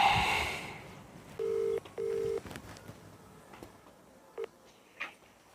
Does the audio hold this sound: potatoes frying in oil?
no